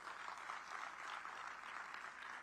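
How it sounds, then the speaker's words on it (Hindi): Applause from a convocation audience at Central University of Gujarat, a dense, steady wash of many hands clapping at a moderate distance, sustained without pause and with no voices over it. "बच्चियां जरूर जोर से तालियां बजाएं"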